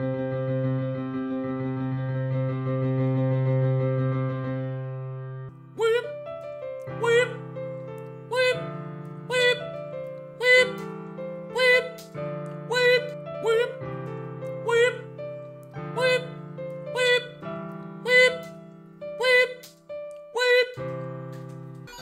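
In the horror video game Replay, a sustained musical tone holds for several seconds, then gives way to a rhythmic melody of short, plucked-sounding notes that continues steadily.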